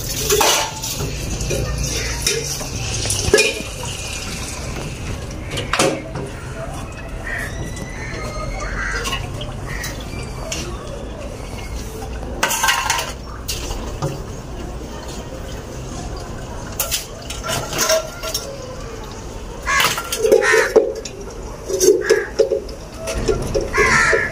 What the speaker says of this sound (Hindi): तो अभी मैंने कहा बर्तन धो ले